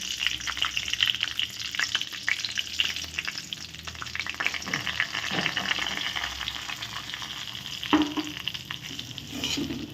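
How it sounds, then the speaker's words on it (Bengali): Mustard seeds and curry leaves frying in a pan give a steady, dense sizzle with scattered crackles and pops. A few louder bursts stand out, and the sizzle carries on alone without talk. "সর্ষে আর কারি পাতাটা ফোড়ন দিয়েছিলাম সেগুলো একটু ভাজা ভাজা হয়ে গেছে"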